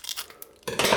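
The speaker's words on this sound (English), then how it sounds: "Scissors to the rescue. Hopefully I don't cut the cards." Scissors snip and scrape through card packaging, a few crisp close cuts followed by a louder rustling crunch as the pack gives way.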